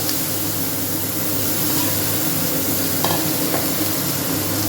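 Constant loud hissing sizzle of brinjal, coated in salt and sugar, frying in a pan, with a couple of faint utensil taps; no voices.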